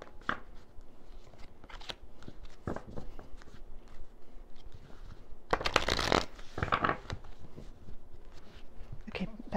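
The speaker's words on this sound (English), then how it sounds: "I shuffle for him because he can't shuffle" A deck of tarot cards being shuffled by hand, with repeated crisp riffling bursts and a louder flurry in the middle, close up, with some speech around it.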